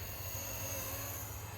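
Steady close whine and hum from a Blade 230s Smart v2 RC helicopter spinning around in place, an even droning buzz without pauses or speech.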